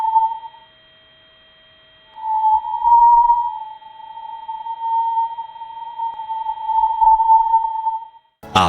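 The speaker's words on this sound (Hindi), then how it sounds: "ये तीसरी ऑडियो हाई चार्ज पार्टिकल्स में होने वाले बदलाव की आवाज है।" Sonified spacecraft data from the Parker Solar Probe near the Sun, representing shifts in high-charge particles: a steady, pure electronic tone holding one pitch with a short break near the start, continuous and alone.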